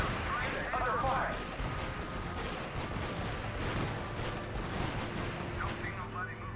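Battlefield gunfire in the strategy game RUSE, dense rattling shots and booming impacts mixed with a continuous rumble of combat, with game voices speaking over the fighting.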